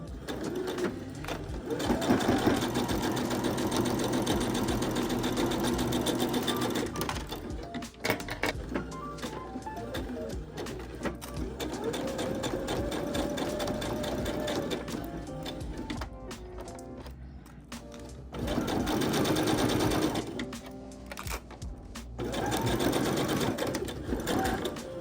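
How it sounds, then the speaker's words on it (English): A domestic sewing machine stitches the ends of a vest flap in steady, continuous bursts, stopping and restarting several times with brief pauses between runs, loud and close with no talking. "Then pin and sew the ends."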